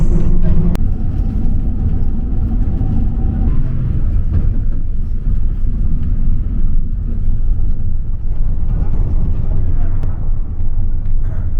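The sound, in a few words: bus engine rumbling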